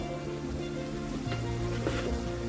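Onion, capsicum and spring onion fry in a pan for chilli chicken, a steady bubbling sizzle with a couple of brief stirring bursts, close and even.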